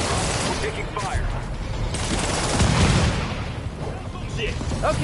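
Gunfire rattles in the Spider-Man video game, bursts of automatic shots and booms packed into a loud, busy few seconds while voices talk over the fighting.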